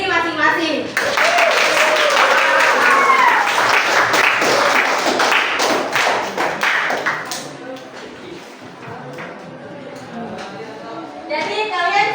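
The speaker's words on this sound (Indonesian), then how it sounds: "Anda semua beri aplaus untuk diri masing-masing." A classroom of students breaks into loud, sustained applause for several seconds, rapid claps blending into a dense roar that fades as a teacher's voice continues, with a brief renewed burst near the end.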